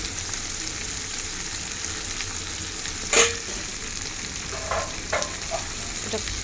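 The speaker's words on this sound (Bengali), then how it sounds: "দেখো সবজি দিয়েছি মশলার সাথে কষছে" Cauliflower and other vegetables frying with spices in a pan, a steady close sizzle with a sharp clatter midway and several scraping stirs toward the end.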